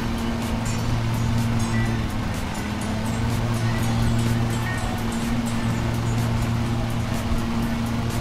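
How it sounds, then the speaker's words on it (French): Ride-on lawn mower engine at full revs in the Lawn Mowing Simulator video game, a loud, steady drone with a constant low hum held for several seconds and no talk over it. "vous allez mettre la fauche en route et puis accélérer, vous voyez, le moteur prend directement ses régimes"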